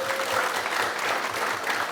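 An audience applauds at the opening ceremony of a Gyeongbuk research institute, steady dense clapping filling the hall without pause.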